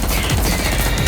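Rapid gunfire shots form one loud continuous burst, a dense stream of close, sharp reports with no pauses.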